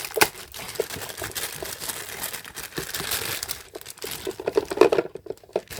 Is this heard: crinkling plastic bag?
yes